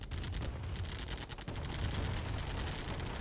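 Rapid minigunner gunfire in the strategy game Command & Conquer: Tiberian Dawn, dense bursts of rattling shots over a busy battle soundscape, moderately loud and continuous.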